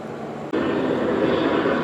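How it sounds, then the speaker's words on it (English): A helicopter approaches overhead at a front entrance: a steady, loud broadband rotor and engine roar that swells abruptly after a brief dip and holds strong, with no voices. "Helicopter approaching."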